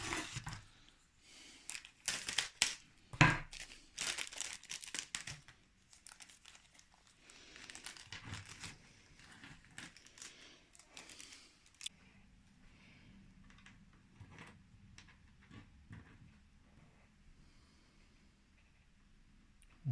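Packaging is cut and handled to free small electronic chips stuck inside, giving a run of crinkling plastic, snips and rustles, louder and busier at first, then sparser and quieter.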